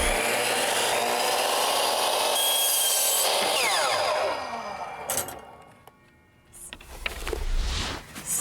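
A power saw cuts straight through 3-inch oak trim, a loud steady whine lasting about four seconds before it winds down. Clattering and handling noises of the wood follow, with no one speaking.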